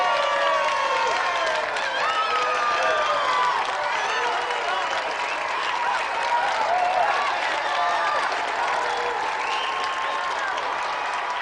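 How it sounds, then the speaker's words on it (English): A TV game show studio audience applauds a contestant coming down, a dense, sustained wash of clapping with some cheering that holds steady from start to finish. "Give him a round of applause"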